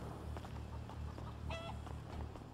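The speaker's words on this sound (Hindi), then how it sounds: "मुर्गा का आवाज आ रहा है ना, कुक कुक कुक बोल रहे मुर्गा" A chicken clucks faintly a few times in GTA 5, over a steady low hum and background noise, with no talking.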